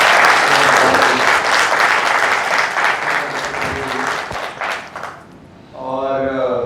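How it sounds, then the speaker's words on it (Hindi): A crowd at a poetry event applauds strongly, with thick sustained clapping that fades toward the end before a voice begins speaking. "एक बार जोरदार तालियां।"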